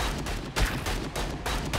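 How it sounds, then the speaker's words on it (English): Rapid gunfire from a machine gun in the video game Vicious Attack Llama Apocalypse, a dense, loud volley of bursts that keeps going for the whole couple of seconds with no talk. "Is that machine gun?"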